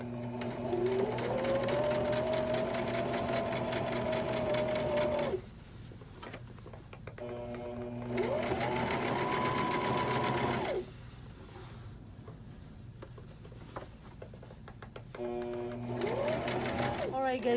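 Sewing machine running zigzag stitches across fabric to gather it, in loud sustained bursts of steady rapid stitching separated by short pauses, with a person talking in between.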